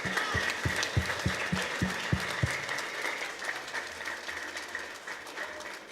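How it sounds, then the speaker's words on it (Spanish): A crowd at a political rally in Nahuizalco applauds the women of Sonsonate with a run of sharp, evenly spaced claps that gives way to a softer wash of noise. "hoy los caballeros tenemos que darle un aplauso a las mujeres heroicas"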